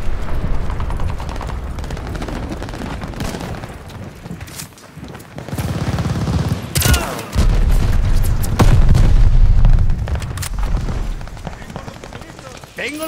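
Deep booms from glide bomb strikes in the video game Call of Duty Vanguard roll under steady gunfire and battlefield clatter, swelling louder midway, with faint voices in the mix.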